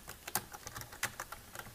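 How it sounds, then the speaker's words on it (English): Quick, uneven keystrokes on a computer keyboard, close and quiet, a rapid run of clicks with a few louder taps and no talking. "I'm actually typing stuff, you just don't see it moving"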